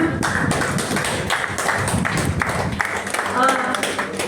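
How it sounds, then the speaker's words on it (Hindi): Loud applause from an audience at a book launch during a literary gathering, dense clapping sustained for several seconds with some louder claps mixed in. "जोरदार तालियां"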